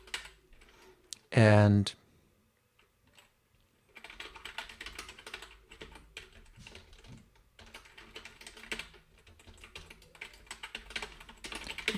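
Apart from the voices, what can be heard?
typing code on a computer keyboard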